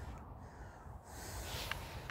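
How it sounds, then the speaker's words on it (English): Crow-like cawing from birds outdoors on a cold, sunny afternoon walk, a couple of short harsh calls over quiet background noise. "these birds making noises, do you hear them?"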